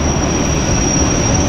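The Glacier Express train runs through the Swiss Alps, a loud, close, steady roar of wheels on rails with a thin high squeal ringing above it, brief and continuous.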